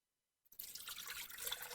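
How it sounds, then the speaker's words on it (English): Water pours into a nut milk maker, a steady splashing trickle that starts after a brief silence and continues evenly, quiet and close, with no one speaking. "I start with the water."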